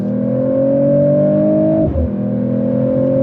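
A Mercedes AMG CLE 53 with a turbocharged straight six accelerates hard, its loud steady engine tone climbing in pitch, dipping briefly at a gear change, then pulling on strongly.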